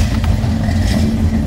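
A 1967 Pontiac GTO V8 catches and settles into a loud, close, deep rumbling idle with a steady throb and no voices over it.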